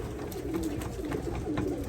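Pigeons or doves cooing steadily in a short run, low soft calls repeating close by against a constant background hum.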